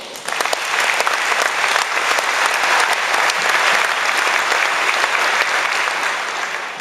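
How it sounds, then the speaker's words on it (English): Graduation audience applauding the 115 maritime academy graduates, steady dense clapping sustained loudly throughout after a quick onset. "Let's give them another round of applause."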